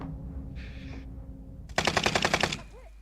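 A rapid machine-gun burst rattles loudly for about a second in Wargame Red Dragon, preceded by a brief higher-pitched mechanical whine and low background rumble, with no speech.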